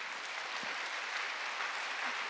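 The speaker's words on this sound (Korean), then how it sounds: "하나님께 박수." Congregation applauding during a Sunday worship service in a church, a steady wash of many hands clapping at once, fairly soft and sustained for a couple of seconds with no voices over it.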